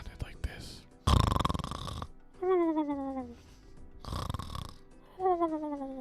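A voice imitates snoring, two long rasping inhaled snores alternating with breathy nasal exhales, close and loud with brief gaps between.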